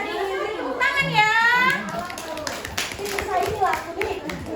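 Children in a classroom clap their hands in a short, scattered burst while kids' voices and a teacher's talk run over and around it.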